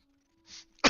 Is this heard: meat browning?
no